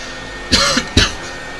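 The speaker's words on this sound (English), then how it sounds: "Yeah, I had to clear my throat" A man clears his throat twice in quick succession, close and loud, with a short gap between the two rough bursts.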